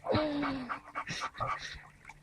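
A dog panting during a bath, quick close breaths with faint whimpers, fairly quiet and without talk.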